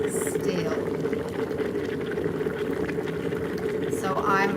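A steamer hissing steadily as it steams and shapes a felt beret, a constant close bubbling rush with brief higher sputters and someone talking over it.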